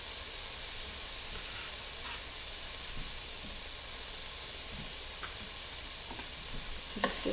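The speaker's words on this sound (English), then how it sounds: "I'm going to add the chard first, because it still has some of that stem in it." Chard sizzling in a pan with garden vegetables, a steady soft frying hiss with faint stirring scrapes, heard close and alone.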